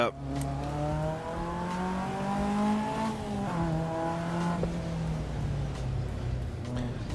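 A Caterham race car at the Spielberg circuit in a racing game, its engine revving loud and close through rising and falling gear changes and downshifts, with faint tire noise and no talk.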